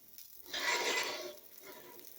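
Tomato dosa batter frying on a hot pan, a soft sizzle that swells loud for under a second and then fades back to a faint crackle.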